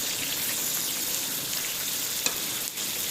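Ginger garlic paste sizzles in hot oil with cumin seeds, a steady close frying hiss with a faint stir and a couple of sharp pops near the end, no voices.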